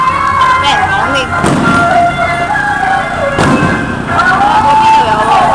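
Fireworks burst at the Taitung Lantern Festival, with loud sustained crackling and heavy booms, two strong blasts standing out, amid a dense noisy crowd.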